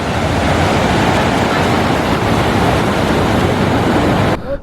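Glacial meltwater river rushing down from Khardung La in Ladakh, a loud, continuous broadband roar of fast water close by, steady throughout before cutting off abruptly near the end.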